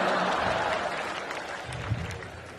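A comedy show audience claps and cheers in a dense, steady burst of applause that slowly fades a little over a couple of seconds.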